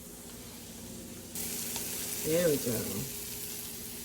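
Peppers and onions sizzle in a hot pan while steak dinner is being cooked, a steady broadband hiss that grows louder partway through, with a voice speaking briefly over it.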